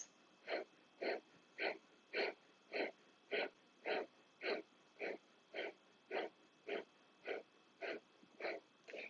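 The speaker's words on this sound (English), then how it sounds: "think about breathing 2 to 3 times per second" Rapid, forceful Breath of Fire (Kapalabhati) exhalations, sharp nasal puffs at an even pace of about two per second, close and clear against a quiet room.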